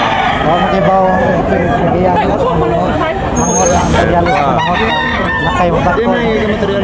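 Fowl calls, including rooster crowing, rise through a dense market din at a Tabunok chicken market, partly masked by a crowd murmur and voices talking.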